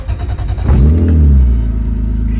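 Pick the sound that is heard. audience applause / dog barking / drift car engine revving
drift car engine revving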